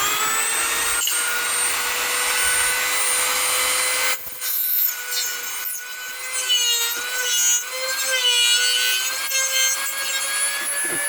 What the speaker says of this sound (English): So let's grab our Dremel again. Let's pop those off.